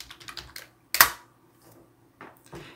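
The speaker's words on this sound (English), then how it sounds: "we need to type in pip install Selenium" Close, fairly loud computer keyboard typing of a terminal command: a quick run of key taps, one sharp louder press like Enter, then a few faint taps after a pause.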